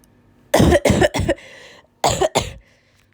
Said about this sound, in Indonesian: Aku batuk beneran sumpah itu tadi.